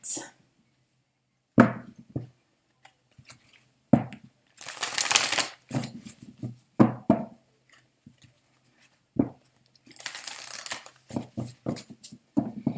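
Oracle cards being shuffled in bursts of brisk riffling and slapping, with a few louder shuffles and softer taps between them, close and fairly loud with quiet gaps.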